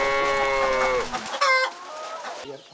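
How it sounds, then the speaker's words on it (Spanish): Peruvian creole chicks peep in high, thin chirps that overlap in a busy, close chorus, then thin out to a few quieter calls near the end. "Estos son los mismos pollitos criollos peruanos de los que les hablamos en el prevideo publicado anteriormente."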